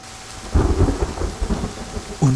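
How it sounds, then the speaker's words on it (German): Rain and rolling thunder in the survival video game The Forest: steady rainfall with a series of low booming rumbles building and fading, loud and near, no talking. "Und es regnet auch noch."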